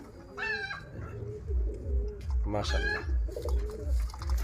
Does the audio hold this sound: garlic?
no